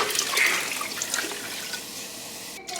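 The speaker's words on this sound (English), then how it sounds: "The recipe does say to cover the canning jars with water." Water pours steadily into a canning pot over jars for a water bath of pizza sauce, a continuous splashing rush that fills the clip and cuts off briefly near the end.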